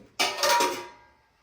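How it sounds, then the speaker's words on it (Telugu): A metal bowl set down on a stove with a single clanking hit that rings briefly and fades out, close and clear with no talk. "ఒక గిన్నె పెట్టుకొని"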